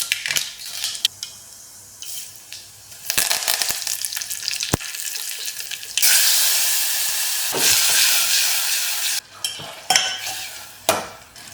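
Mustard and cumin seeds temper in a teaspoon of oil in a pot for rasam, crackling and sizzling loudly, with metal spoon scrapes, clinks and bursts of stronger hissing across the stretch.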